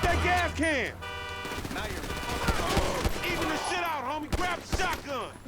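Gunfire during a bank heist in GTA V: a dense, continuous fusillade of shots and impacts with loud crackling reports, mixed with excited voices and wailing siren-like tones.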